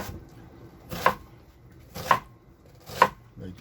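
A knife cuts through an onion for red pozole on a cutting board with three distinct, evenly spaced chops about a second apart, each a sharp knock against the board, close and clear, with no talking.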